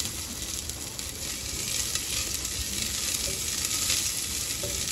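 Onion sizzles in a pan with a dense, steady frying hiss throughout, close and even, with faint stirring and no talking.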